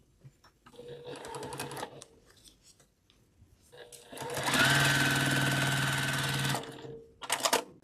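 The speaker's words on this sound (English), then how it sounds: "let's go sew that down" Sewing machine stitching down a quilt block for a beginner sampler quilt, a steady loud mechanical whir running for about two seconds, with brief fabric handling and quieter bursts of machine noise before and after.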